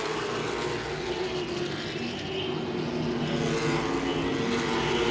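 Late model race cars circle Langley Speedway on a short oval in a continuous, dense engine roar that swells slightly as the field passes, with no voice over it.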